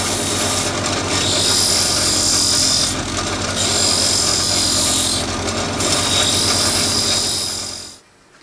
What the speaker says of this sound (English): We'll take these bits of dowel rod and sharpen them off to make the barbels.